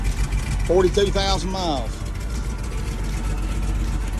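An International Loadstar truck engine idles steadily with a low, continuous rumble, while someone speaks briefly over it near the start.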